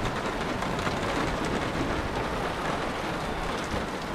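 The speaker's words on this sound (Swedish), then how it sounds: "vi hann inte undan det här regnet och åskovädret" Steady rain during a thunderstorm, a dense even hiss of drops drumming on a car and surrounding surfaces, continuous and fairly loud throughout with no voices.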